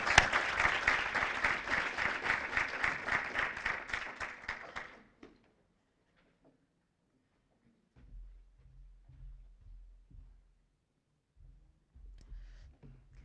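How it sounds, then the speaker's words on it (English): Audience applause at a community celebration event, brisk dense clapping that fades out after about five seconds, leaving near silence with faint low sounds and murmuring. "Give yourselves another round of applause"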